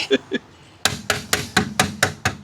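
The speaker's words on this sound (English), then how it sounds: "How many times do you think I'm gonna need to hammer on beauty rings?" A hammer striking car beauty rings on a cheap Barracuda in a garage, two light taps then a steady series of six or seven sharp, loud metallic blows close by.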